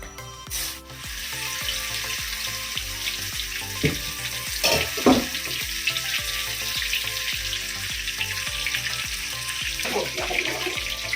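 Soya chunk kababs fry in hot oil with a steady, close bubbling sizzle, a few louder clinks and stirring scrapes partway through, and no voices.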